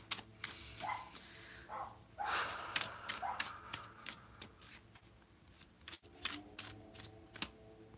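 A tarot card deck shuffled by hand, heard as quick, crisp riffling and flicking bursts with small taps, close and fairly quiet, with a few soft breaths between them.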